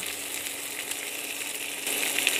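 Cauliflower added to a hot pan for white sauce pasta, a steady close sizzle and fry hiss that swells louder near the end, with no talk.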